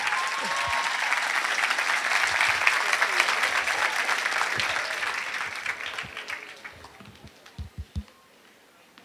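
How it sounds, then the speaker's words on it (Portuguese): An audience bursts into applause to welcome Dr. Rodrigo Silva. Dense, steady clapping swells and then thins out into a few last isolated claps. "E recebamos agora com muito carinho a salva de palmas do Dr."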